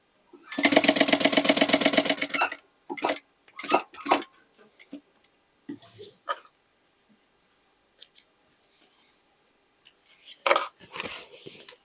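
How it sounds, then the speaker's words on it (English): A sewing machine stitching pieces of old jeans into a makeup bag runs in one steady rapid burst of about two seconds, followed by quiet clicks, snips and handling noises with long silent gaps. "And now I will stitch this piece at once."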